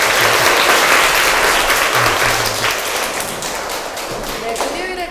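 An audience applauds at the close of a science lecture on tumour plasticity in Daegu, a dense, steady clapping from a crowd that slowly tapers off, with a few thumps.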